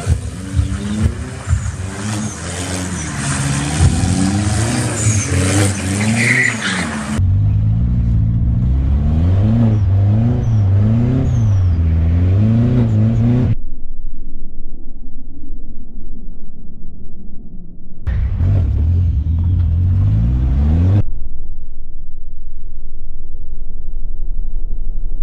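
A modified car engine of about 200 horsepower revs hard in repeated bursts, loud and close, with deep growling pulses, idle pauses between, and a final short blip.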